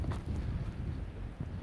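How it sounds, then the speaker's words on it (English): Strong wind buffets a microphone fitted with a furry windscreen during an outdoor walk, a continuous low rumbling roar with no talking. "It is quite windy."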